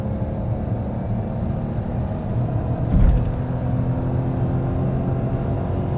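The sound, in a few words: Nissan Juke 1-liter 3-cylinder engine accelerating in third gear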